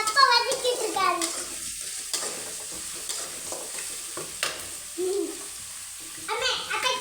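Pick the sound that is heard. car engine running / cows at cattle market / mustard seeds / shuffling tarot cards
mustard seeds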